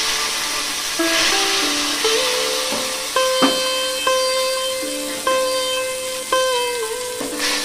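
Water and chili powder, with a pinch of cumin, sizzle steadily in hot oil, a broad hiss running throughout beneath a background of melodic tones and soft clinks.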